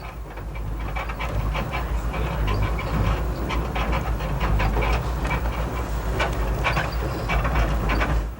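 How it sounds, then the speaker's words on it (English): A train in India rumbles steadily with a low, continuous drone and repeated rattling clatter from the carriages, close and fairly loud. "the monotonous rhythms of the train"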